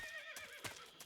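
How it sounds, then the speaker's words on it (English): A horse in the stealth action game Metal Gear Solid 3: Snake Eater lets out a brief, quiet whinny with a wavering pitch, along with a few soft hoof clops, heard at a distance. "Caballo."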